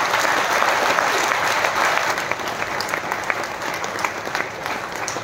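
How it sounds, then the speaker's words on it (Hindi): Loud applause from an audience at a song launch event, thick and continuous at first and then thinning slightly into scattered, sharper claps near the end. "जोरदार तालियां बजा दीजिए"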